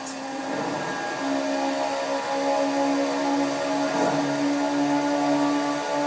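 A steady, droning 4.5-liter naturally aspirated Ferrari 458 V8 roar in Forza Horizon 4, high and sustained, with a brief surge partway through.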